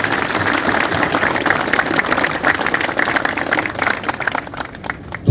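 Crowd applause for young soldiers departing for military service at a send-off ceremony, a dense, steady wash of clapping that holds for several seconds before thinning out near the end.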